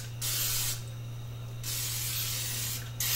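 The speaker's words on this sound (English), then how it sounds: "Spray it." Three short hissing bursts of cooking oil sprayed from a can into a pan, with a steady low hum underneath between sprays.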